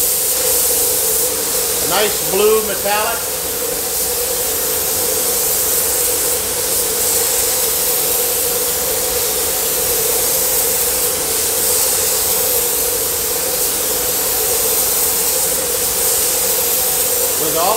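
A spray gun lays down a Tamco single-stage blue metallic automotive paint in a loud, unbroken hiss that runs close and steady throughout. Someone speaks briefly near the start.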